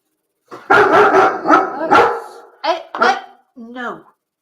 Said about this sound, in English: The big dog's down here at the moment, so you know what she's like when she starts barking.